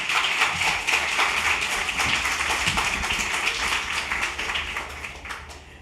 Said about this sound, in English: Clap them again and let's get going.